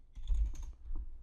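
Brief burst of typing on a computer keyboard while a git commit command is entered, with a few soft, close keystroke clicks over a low background hum.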